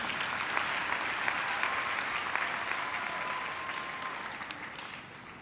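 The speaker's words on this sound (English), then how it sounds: "Can we give a round of applause to Prof. Berger?" Steady applause from a seated crowd at a university graduation ceremony, even and sustained throughout, slowly fading toward the end with no talk over it.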